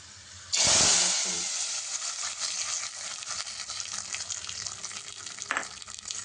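Hot tempering poured into cooked red lentil dal bursts into a loud sizzle that gradually settles into a steady, crackling fry, with a brief renewed hiss near the end and no talking.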